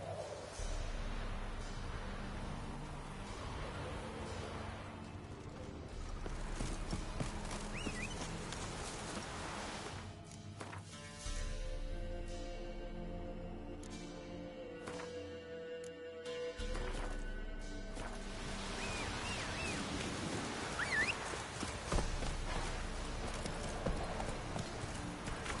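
Steady clip-clop of horse hooves walking in The Witcher 3 video game, a horse's rhythmic footfalls continuing throughout with a brief whinny and faint rain-like ambience in the game world.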